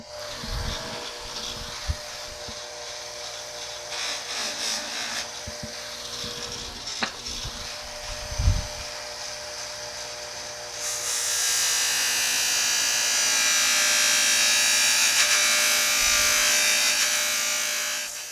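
A buffing wheel loaded with green compound polishes Yamaha Banshee 350 shift stars, giving a steady motor whine with scraping contact noise and a few knocks, then a louder, brighter continuous grinding hiss as metal presses against the wheel.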